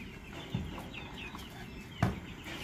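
Large chickens cluck in a farmyard pen, soft scattered calls over a busy background with two sharp knocks.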